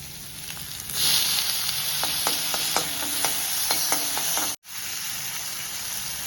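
Onions, green chillies, curry leaves and tomato sautéing in a pan, a continuous close sizzle punctuated by a run of light stirring clicks, with a brief cut near the end and no speech.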